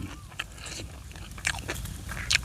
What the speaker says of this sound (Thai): เคี้ยวเพลินมากเลย